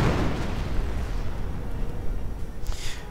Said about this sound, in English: Ooh, artillery! More Hummel fire, pretty much sorting out that anti-tank gun.